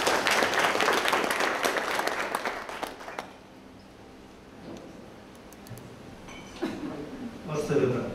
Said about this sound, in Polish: Bardzo proszę o brawa i przywitanie